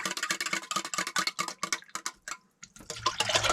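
A spoon works through tomato soup thinned with a full can of water, stirring the can clean with quick, irregular metallic taps and scrapes, close and fairly quiet, a short pause near the end before a low rumble sets in.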